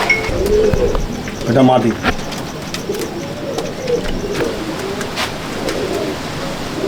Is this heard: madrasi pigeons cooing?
yes